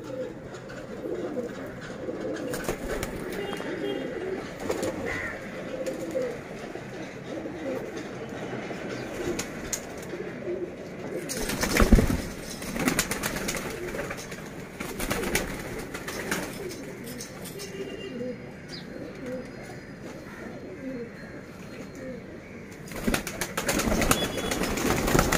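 Pigeons in a loft coo softly and steadily at moderate distance, with occasional rustling and a brief louder flutter midway, no clear talk.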